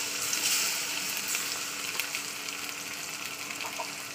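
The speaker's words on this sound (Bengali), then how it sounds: "মশলাটা দেওয়ার পর আবার একটু ভাজা করতে হবে, যাতে আদা রসুনের গন্ধটা চলে যায়।" Ground ginger-garlic spice paste hisses in hot oil with onions for a Bengali katla fish curry with taro, a continuous dense sizzle that starts louder and eases slightly, with faint stirring and no voices.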